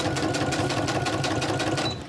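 A sewing machine runs steadily up close, its rapid mechanical stitching hum continuous, then easing off at the very end.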